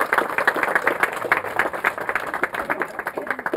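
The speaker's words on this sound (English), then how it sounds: "And so another round of applause" Wedding guests applaud the bridesmaids at a reception, a dense patter of clapping that runs steadily through the whole stretch, moderately loud with no voices standing out.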